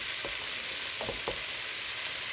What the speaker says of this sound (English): We are frying the onions up in some olive oil.